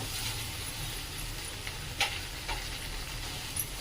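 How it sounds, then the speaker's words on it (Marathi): Finely chopped onion sautéing in a pan, a soft steady sizzle with occasional light clicks of stirring, fairly quiet throughout. "कांदा चांगला परतून घ्यायचा"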